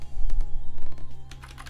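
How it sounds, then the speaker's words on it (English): Repeated key taps on a computer keyboard, the bracket keys pressed while resizing a digital brush, a quick run of clicks over a steady low hum. "using my bracket keys,"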